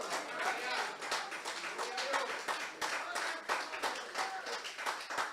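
A church congregation claps in a steady rhythmic beat during an Easter-themed sermon, heard at a moderate distance with a lively room feel.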